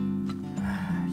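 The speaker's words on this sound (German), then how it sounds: "So, noch ein weiteres Pferdchen." A horse neighs in the video game Turmoil, a short whinny heard clearly over a steady low game-music drone.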